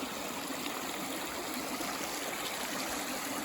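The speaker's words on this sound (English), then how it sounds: "A nice little beaver pond and creek just before the shelter here." A small creek near a beaver pond on the Appalachian Trail flows with a steady, even rush. The water sounds close and continuous, and no one speaks.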